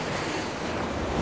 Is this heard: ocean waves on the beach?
yes